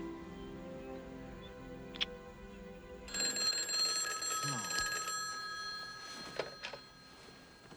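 A telephone bell rings loudly indoors, a bright, insistent ring that starts partway through and keeps going, with a few soft knocks and movement noises beneath it.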